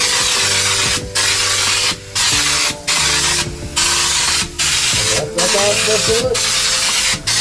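Raptorliner bedliner sprayed inside a Toyota truck cab in loud, steady hissing bursts separated by short pauses, with a brief spoken line near the start.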